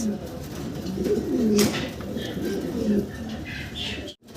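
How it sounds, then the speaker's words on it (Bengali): A pair of black Maltese pigeons coo nearby in low, rolling bursts, while a person talks over the calls. "একজোড়া একদম জিরাপ গোলার মাল্টেস কবুতর ব্ল্যাক কালার"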